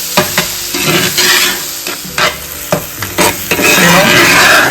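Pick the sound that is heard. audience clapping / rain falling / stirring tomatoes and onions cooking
stirring tomatoes and onions cooking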